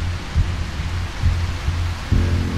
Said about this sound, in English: Why is the thunder so loud?